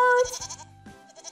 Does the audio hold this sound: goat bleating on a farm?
yes